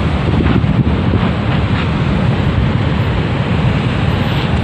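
Steady roar of wind and surf at Pandawa Beach in Bali, a dense, continuous wash of breaking waves and gusting air buffeting the microphone, loud and close with no voices.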